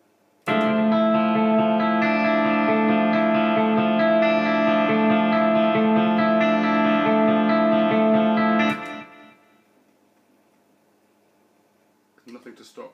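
A sustained electric guitar chord through a Line 6 Helix, with reverb placed before the amp, rings with lush reverb and slight distortion for several seconds, then decays into a soft tail, followed by faint noise.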